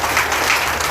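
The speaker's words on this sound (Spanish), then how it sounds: "No sé si le podemos dar un aplauso fuerte." A congregation applauds at a church service in a brief, dense burst of many hands clapping together, loud and even, with no voices standing out.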